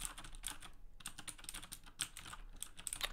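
Computer keyboard keys are tapped in a quick, uneven stream of light clicks, captured through a Rode NT USB microphone, fairly faint and with no voices.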